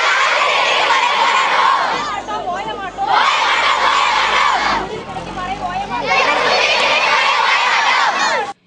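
Around a thousand school students protest with loud, dense shouting and chanting, crowd noise swelling in waves with brief dips between bursts.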